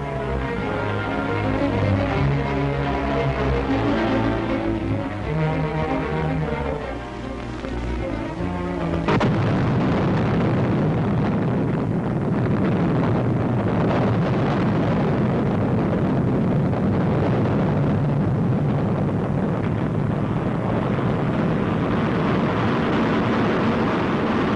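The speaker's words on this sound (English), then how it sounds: "it hurtles upwards before the enormous thrust of two rocket boosters and the main sustainer engine." A 1950s Atlas missile launch: two rocket boosters and the main sustainer engine, with the full 122-ton missile lifting off. About nine seconds of orchestral music give way to a loud, sustained, rumbling roar that lasts to the end.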